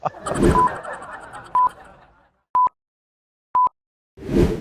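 Touch-tone telephone dialing for a call to America: a few short keypad beeps spaced about a second apart, close and clear, with a brief burst of voice and noise at the start and end.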